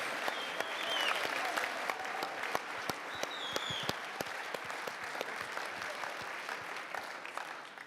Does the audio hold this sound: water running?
no